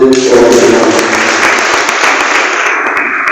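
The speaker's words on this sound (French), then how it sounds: "je vous invite à applaudir" Loud, dense applause from a trade union congress audience fills the whole stretch, a sustained wash of many hands clapping at once that eases slightly toward the end.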